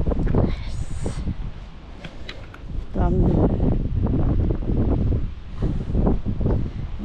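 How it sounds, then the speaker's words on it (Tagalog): Wind gusts buffet the microphone with a low, rumbling roar on a cold autumn day among trees in Canada, broken up by brief bursts of nearby talking. "Mahangin po ngayong araw na to,"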